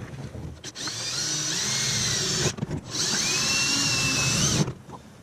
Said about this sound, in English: where I'm gonna drill.